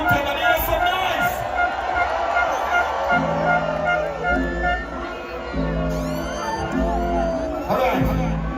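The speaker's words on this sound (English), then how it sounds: "Everybody big up yourself in the crowd that's having a good time and hear some noise." A festival crowd at a Summer Jam show roars, whoops and shouts in a dense, continuous wash of noise, loud and sustained, with music and voices mixed in.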